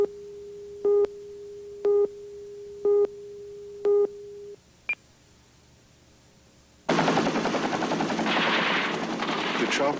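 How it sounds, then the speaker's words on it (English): Vietnam War helicopters and gunfire: a loud, dense, continuous roar of rotors and rapid firing that bursts in abruptly after a run of evenly spaced electronic beeps and a short high tone. "The choppers were so loud it would hurt your ears, and there was firing everywhere"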